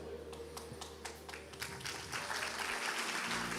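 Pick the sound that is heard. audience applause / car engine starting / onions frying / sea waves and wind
audience applause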